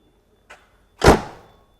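Storage compartment door on a 2002 Prevost Featherlite bus: a light click, then a solid sliding thunk as the door shuts, close and alone.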